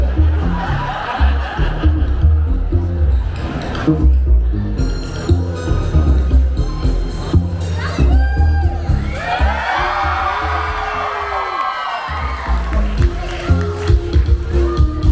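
A crowd at the Washington State Spring Fair in Puyallup laughs, whoops and cheers, rising into a loud burst of shouting near the end, with a voice speaking over the noise.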